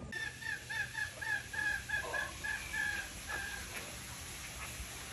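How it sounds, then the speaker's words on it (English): Chickens clucking and crowing in a walkthrough enclosure at Chiang Mai Zoo, a run of repeated rhythmic calls over several seconds, moderately near against quiet background noise, with no talking. "So this is a chicken walkthrough."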